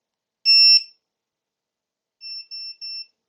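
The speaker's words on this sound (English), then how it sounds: "Beeps 3 times, lets you know the alarm is now deactivated" A Vifly Finder lost model buzzer gives one sharp electronic beep, then after a pause three short high beeps in quick succession as it disarms, close and clear against silence.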